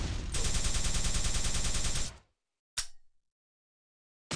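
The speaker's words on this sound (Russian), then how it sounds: "он его просто плазминку выстрелил" Rapid plasma gun fire in Quake on a defrag map, a loud buzzing burst of fast repeated shots lasting about two seconds, then a short sharp blast, silence, and the start of another burst.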